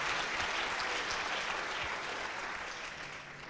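Dense audience applause at a talk on chronic pain, even and sustained, slowly tapering toward the end.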